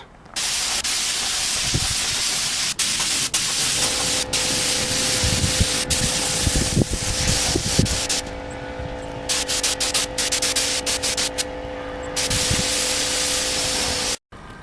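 Gold spray paint hisses steadily from a can onto motorcycle parts outdoors on a cold, snowy day, with the hiss continuing almost unbroken and just a few brief pauses.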